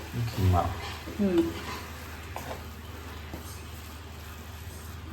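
Bottle gourd halwa is stirred and mixed in a pan, a few soft scraping strokes near the start over a low, steady background hum, quieter and fainter after the first couple of seconds.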